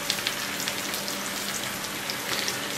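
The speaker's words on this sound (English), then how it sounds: "I'm going ahead and I'm melting my butter and heating it up a bit" Butter melts and heats in a pan with a steady crackling sizzle, close and even throughout, no voices.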